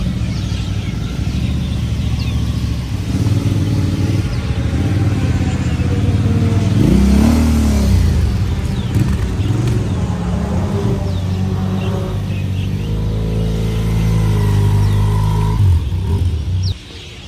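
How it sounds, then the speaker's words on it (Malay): About five motorcycles from a biker group start up and move off at a riverside meeting point, engines idling and revving with a rising rumble that stays near and loud before cutting off. "Kita ada lebih kurang 5 biji motor pagi ni untuk grup pertama. So kita akan bergeraklah sekarang."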